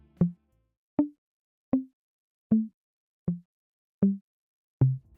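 Seven short, isolated plucked attacks of a sampled instrument, played without their sustain, sound one by one at an even pace, each cut off sharply with silence between them.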